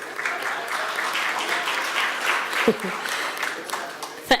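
Applause breaks out in a parliamentary chamber during a National Assembly sitting, a steady patter of many hands clapping at moderate distance, with a couple of louder close thumps near the end.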